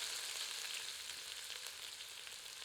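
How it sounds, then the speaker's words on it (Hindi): Chopped onions hitting hot oil with whole spices for a traditional Uttar Pradesh Azamgarhi mutton curry, giving a steady, bright sizzle that holds evenly throughout without any voices. "अब कटी हुई प्याज सम्मिलित करते हैं।"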